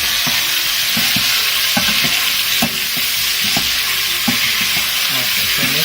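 Onion fries in a pan with a constant bright sizzle, while a utensil stirs it in repeated scraping strokes that come at an irregular rhythm.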